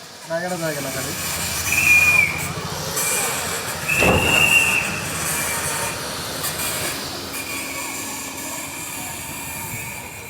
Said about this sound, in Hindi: दस बजकर 37 मिनट पर हमारी ट्रेन निकली है पार्वतीपुरम से।